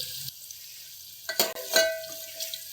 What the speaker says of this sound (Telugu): ఉల్లిపాయ ముక్కలు వేసి కలపాలి ఇప్పుడు ఇందులోకి ఒక అర చెంచా ఉప్పు కొద్దిగా పసుపు వేసి కలపాలండి